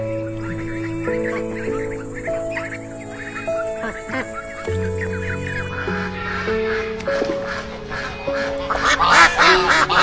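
Duck quacks sound with a toy animal truck, mixed with a simple electronic tune and becoming louder and more frequent toward the end.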